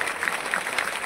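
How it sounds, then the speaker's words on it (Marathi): Audience clapping at a Harinam Saptah religious gathering in a Maharashtra village during a felicitation: a brief, fairly loud burst of rhythmic, evenly spaced claps from a crowd. "सर्वांनी टाळ्यांचा गजर करायचा आहे"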